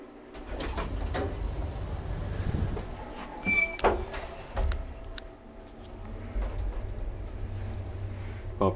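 An old Valmet/Schlieren traction elevator door, made by Kone, sliding open or closed, heard as a low rumbling slide with clunks and a sharp metallic bang partway through, fairly close in a quiet building.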